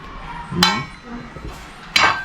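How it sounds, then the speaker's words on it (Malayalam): Clay cooking pot handled among metal dishes and cookware, giving two or three sharp clinks and knocks spaced apart, fairly close, with faint background sound between. "ഒരു മണ്ണൻ ചട്ടി എടുക്കുന്നുണ്ട്"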